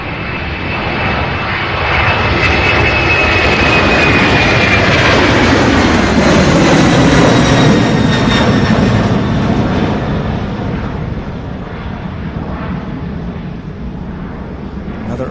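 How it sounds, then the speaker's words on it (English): A UPS Airbus A300 jet takes off, its engine roar loud and steady, swelling to a peak midway before easing slightly as it climbs away, with a thin whining tone riding over the broad rumble. "This one here heading to Omaha. Airbus A300. UPS flight"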